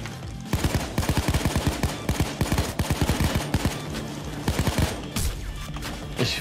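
Gunfire aimed at police in the video game Payday 2, with rapid bursts of automatic fire in dense, rhythmic volleys, loud and close, broken by brief pauses, with no voices.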